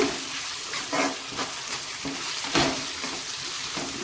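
Grated raw mango fries in a hot pan, a continuous close sizzle punctuated by regular scraping strokes of a spatula stirring it through.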